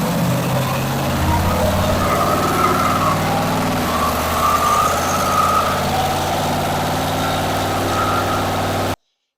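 A car engine runs at steady part throttle in high gear on a hub dyno in a shop, a loud, continuous low drone with a slight rise and fall in pitch before cutting off abruptly at the end, no talking.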